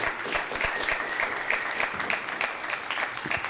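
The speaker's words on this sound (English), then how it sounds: "How about a round of applause for Tom?" Seminar audience at a sustainability summit applauds a panelist, a brisk continuous round of clapping with individual claps popping out near the microphone.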